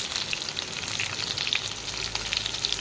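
Stuffed bitter gourds with a leftover onion-chili stuffing fry in hot oil in a pan, giving a steady, dense sizzle that carries alone without talk.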